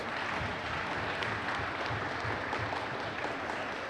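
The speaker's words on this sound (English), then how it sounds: "Let's give all of our DARE graduates one more big round of applause." Sustained applause from an audience at an elementary school DARE graduation ceremony, a steady dense wash of many hands clapping throughout, fairly distant and even in level.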